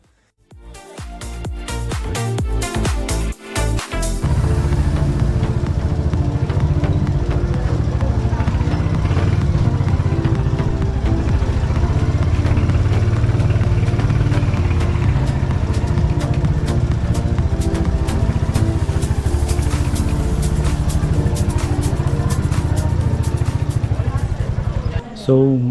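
A motorcycle rides slowly through the narrow lanes of Jaisalmer Fort, its engine a steady close mid-pitched rumble after a few sharp clicks at the start, continuing throughout.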